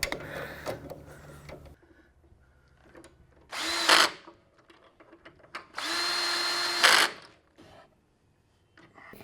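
A power drill runs a bolt into a Harley-Davidson Sportster's brake pedal and foot peg assembly in two close, loud bursts of whirring, roughly a second and then two seconds long, with quieter tool handling and clatter between them.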